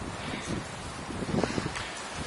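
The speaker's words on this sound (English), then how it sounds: "It's a windy day." Gusty wind buffets the microphone outdoors beside a Vespa GTV-300 scooter, a loud, close, rough rumble with a few stronger bursts and no talking.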